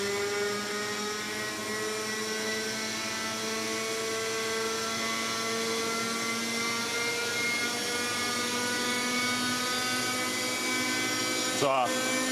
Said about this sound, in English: soon returns with his own model chopper.